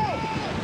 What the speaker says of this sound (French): Le vent, c'est hallucinant.